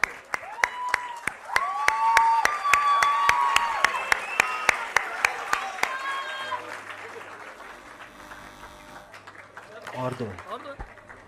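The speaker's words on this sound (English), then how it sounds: "A huge round of applause." Audience applause at a hospital's 59th foundation day ceremony, a steady wash of clapping for several seconds with a rhythmic beat running through it and over a sustained tone, fading out toward the end.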